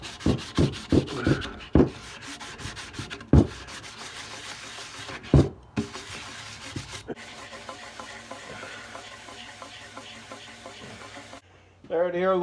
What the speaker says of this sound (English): I'm going to get a sanding block now